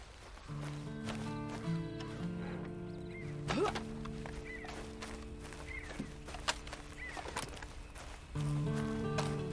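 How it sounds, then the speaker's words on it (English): A horse ridden in the video game Red Dead Online, its hoofbeats clopping steadily at a moderate level beneath continuous tonal game music, with a few sharper knocks along the way. "Then you better get on this horse."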